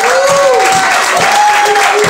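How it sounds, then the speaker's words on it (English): A church congregation claps together to welcome visitors at a Christmas concert, loud and sustained, with voices and a held tone ringing over the applause. "Church, let's all clap happy for our visitors today."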